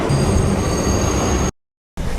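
A New York City subway train running, a loud steady rumble of wheels on track with a high electrical whine that briefly cuts out and then returns, close and continuous with no talking.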